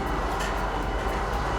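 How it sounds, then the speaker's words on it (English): Trains rumble in the Star Citizen video game, a brief, dense, steady low roar with faint rhythmic clatter. "Yep, both trains have come."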